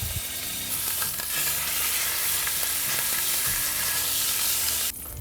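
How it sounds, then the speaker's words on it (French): Venison fillet sears in hot clarified butter, a dense continuous sizzle and crackle close up with a few stirring knocks, the frying hiss dropping away abruptly near the end. "On va s'occuper de cuire notre filet mignon de chevreuil maintenant."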